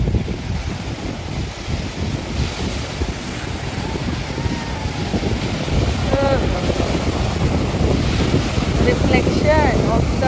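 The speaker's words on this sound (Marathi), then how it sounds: "बोट घेऊन चाललेत आता राफ्टिंगसाठी आज." A boat heads out to sea for rafting at Devgad, its hull and engine drone merged with steady wind buffeting the microphone and surf washing around it, with a few faint whistling sounds later on.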